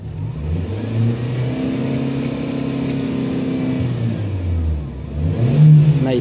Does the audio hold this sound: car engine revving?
yes